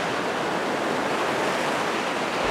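Steady, dense ocean surf roars at Walvis Bay, Namibia, heard from a desert sand dune overlooking the sea, a continuous broadband wash of breaking waves with no voices.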